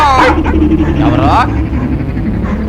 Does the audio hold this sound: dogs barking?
yes